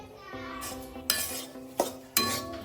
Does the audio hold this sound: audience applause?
no